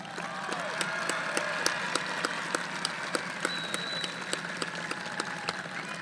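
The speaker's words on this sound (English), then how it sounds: "a round of applause for everybody" Steady applause from a graduation ceremony crowd for the high school class of 2020, a continuous wash of many hands clapping at even loudness throughout, with individual sharp claps standing out.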